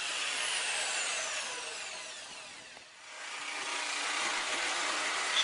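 A Bosch jigsaw fitted with a resin-cutting blade saws through a Corian worktop, giving a steady, close rasping buzz that dips briefly midway before resuming at full strength.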